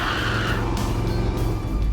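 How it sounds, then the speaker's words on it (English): A 1974 Ford F-100 pickup burns rubber, its tires squealing against pavement over a loud, steady engine roar that rises slightly at the end, no talk. "Let's burn some rubber."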